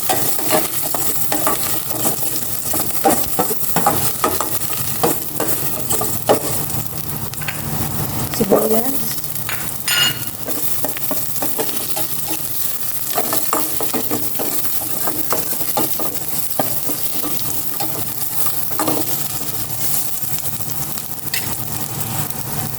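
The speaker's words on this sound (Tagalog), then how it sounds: "Gisa ko na itong bawang." Garlic fries in a saucepan with a continuous bright sizzle and crackle, while frequent stirring scrapes and light metallic taps run throughout.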